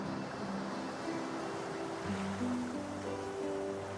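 Ocean waves wash steadily in the video game Divinity Original Sin 2, a continuous soft surf roar under a low, sustained musical drone, with no voices.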